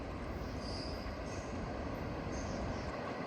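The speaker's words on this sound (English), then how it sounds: "That's the end of the train with the flashing rear end device, commonly called a Fred." A CSX freight train rolls past at night, its final cars giving a steady, loud rumble with a faint squeal of wheels on rail throughout.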